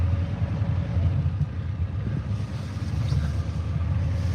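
A Ford diesel truck pulls away in four-wheel-drive high, a low, steady engine rumble with wind buffeting the microphone and no clear separate events.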